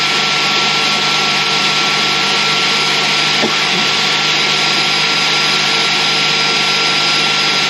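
A blender runs steadily at high speed, mixing a batch of jalapeno hot sauce, a loud continuous whirring drone that stays even throughout with no talk over it.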